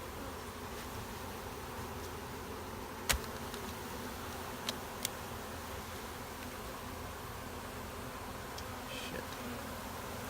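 Honey bee swarm buzzing during a transfer from a swarm trap: a dense, continuous low hum fills the scene evenly, with a few faint clicks and a brief muttered word.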